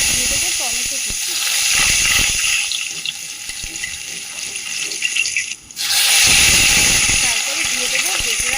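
Black cumin, crushed ginger and chopped tomato hit hot oil for a Bengali pabda fish curry, giving a loud, steady sizzle and hiss that drops out briefly, then surges back stronger, with faint kitchen clatter underneath.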